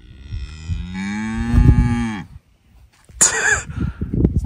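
Cows on an Estonian pasture moo loudly and close by, one long drawn-out low call followed after a short pause by a higher, rougher bellow mixed with other noises.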